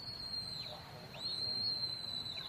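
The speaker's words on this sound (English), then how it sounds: "That was a stop whistle" A faint, thin high-pitched shepherd's stop whistle to a working sheepdog, held steady, with short sliding whistle notes, carrying over distant open-air hillside background noise.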